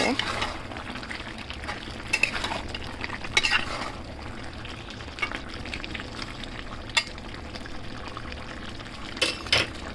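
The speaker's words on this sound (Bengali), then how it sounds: "আর একবার নেড়ে দেবো" Vegetables for chicken curry are stirred in a pan, the utensil scraping and clacking in irregular bursts over a steady low cooking hiss, close and moderately loud.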